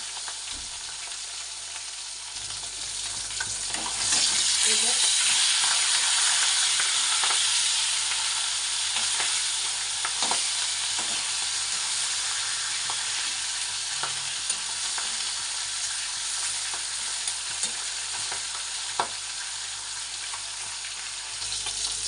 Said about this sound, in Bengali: বেশি মাছ দেওয়া যাবে না তাহলে ভাজা হবে না